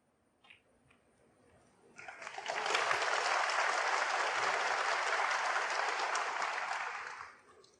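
Supporters at a snooker match between Ronnie O'Sullivan and Judd Trump break into a big cheer and applause, rising sharply after a few quiet seconds, holding loud and sustained, then fading at the end.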